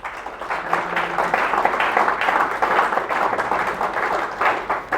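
An audience at a tourism and hospitality industry event applauds, dense continuous clapping filling the hall for several seconds at steady loudness.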